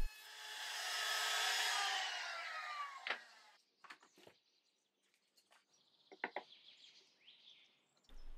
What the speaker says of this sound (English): I'm using a router because I have it.